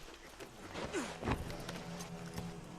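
Soft hoofbeats of a horse in Red Dead Redemption 2 sound faintly over a quiet game soundscape, with a few irregular clops and light thuds.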